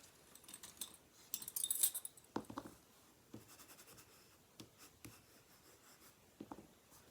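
A paper notecard is burnished by hand, giving soft scratchy rubbing strokes in short irregular bursts, faint and close with no talking.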